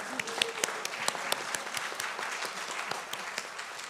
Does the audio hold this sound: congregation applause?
yes